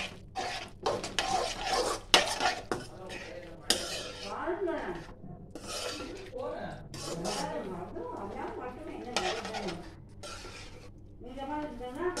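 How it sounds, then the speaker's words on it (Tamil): Cooked pasta being stirred and mixed in a metal pot, irregular scraping and clinking of a utensil against the pot with soft wet shuffling, intermittent bursts throughout, while someone talks over it. "போட்டு நல்லா மிக்ஸ் பண்ண போகிறோம்"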